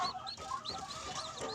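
Chickens cluck near a newly built coop for freshly hatched chicks, with repeated soft clucks and high peeping calls close by and no talking.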